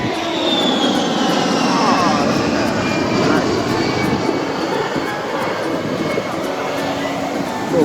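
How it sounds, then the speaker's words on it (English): Small propeller airplane passing overhead at a beach, a steady droning engine tone that shifts slightly in pitch as it goes by, heard over surf and wind with people talking nearby. "Little plane that went by."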